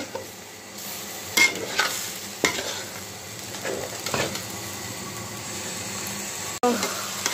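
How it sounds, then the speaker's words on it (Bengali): Raw rice being stir-fried in a pan with a little meat, a soft sizzle broken by scraping and clattering strokes of a spatula against the metal, close and fairly quiet. "এখন চালটা আমি ভালো করে কষিয়ে নিব"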